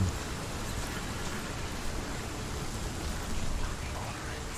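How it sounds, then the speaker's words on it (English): Steady rain hissing in the video game Hellblade: Senua's Sacrifice, a soft, even wash of falling rain at low level throughout with a faint low rumble beneath. "Rain, rain, rain!"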